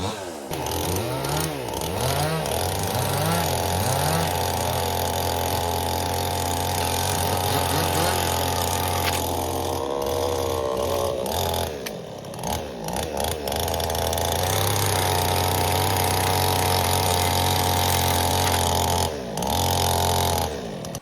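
A small machine engine runs loudly and continuously, its pitch rising and falling as it revs, like a chainsaw being throttled up and down, while wood is cut.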